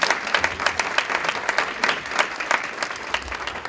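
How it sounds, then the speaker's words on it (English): An audience at a Santa Clara County meeting breaks into lively applause for the school board members, a close, dense burst of clapping with scattered individual claps standing out. "Give them a round of applause."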